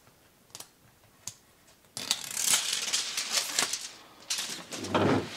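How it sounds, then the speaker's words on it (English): Adhesive tape pulled off a cabinet base rail, a few faint ticks at first, then a louder ripping, crackling tear that runs in bursts for several seconds, close by. "Now I'm going to pull the rest of the tape off from this direction and this direction."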